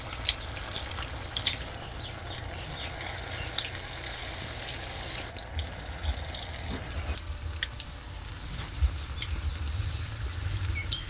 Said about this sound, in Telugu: నూనె వేడెక్కింది. ఒక్కొక్క ముక్క వేసుకుంటూ ఒక వాయి వేసేసుకుందామండి.